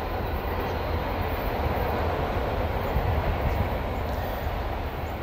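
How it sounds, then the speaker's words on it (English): A BNSF westbound autorack freight train rumbles past close by on the Marceline subdivision, a loud continuous roar of rolling wagons with heavy low-end rumble and steady rattling. "Another westbound autorack train."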